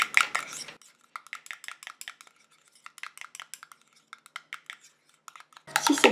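Homemade face cream being mixed in a small container, a spoon or spatula clicking and scraping against the sides in quick, irregular strokes, close and fairly quiet, with brief rustling at the start and end.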